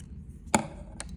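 Scissors snip off excess yarn on a crocheted mesh top, a single sharp cut near the mic followed by a fainter second click, over quiet room tone.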